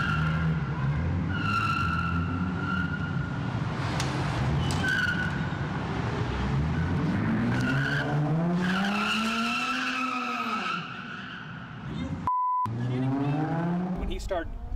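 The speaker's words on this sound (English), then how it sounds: "Fishtailing, he missed me by an inch." A red sports car skids and fishtails on a road, its tires squealing in long rising and falling wails close by, with engine noise and someone shouting over it.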